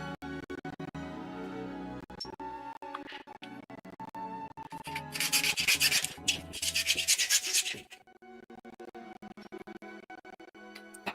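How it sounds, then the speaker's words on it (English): Plastic model kit parts for an MG Advanced Hazel Gundam kit being sanded by hand, soft close rubbing strokes that build into a louder, denser scraping burst for a few seconds before easing off. "these are almost all sanded"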